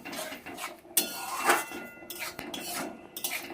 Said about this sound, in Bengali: ভালো করে চিনিটা টমেটোর সঙ্গে মিশিয়ে নেব